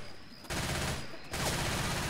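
Rapid automatic gunfire from a Left 4 Dead 2 versus match, loud and continuous in two dense bursts with a brief gap between them, no talk over it.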